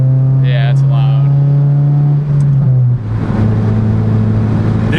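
Loud, raspy engine drone from a protuned 9th-gen Civic Si with small resonator, holding steady then dipping as revs shift, with a person talking over it.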